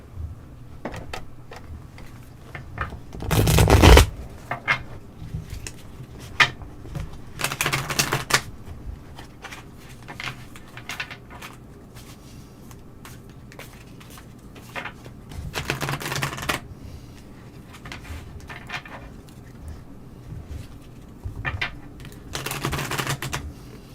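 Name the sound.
shuffling Namaste Blessing cards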